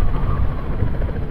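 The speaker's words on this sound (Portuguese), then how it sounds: "Ó, tem até helicóptero aqui, ó." Steady low rotor thumping and engine roar from a helicopter near a skyscraper construction site, loud and continuous throughout the brief moment, with no voices.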